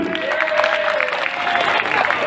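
An audience at an Islamic talk applauds for a young man named Ali, making a dense, steady wash of clapping from many hands, fairly loud and even, with a faint voice or tone running through it.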